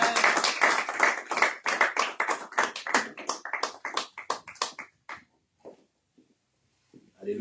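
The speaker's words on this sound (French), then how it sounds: "Est-ce qu'on peut acclamer le Seigneur?" A church congregation claps in steady rhythm during a worship service, loud and dense at first, then thinning out and fading to a few scattered claps before stopping.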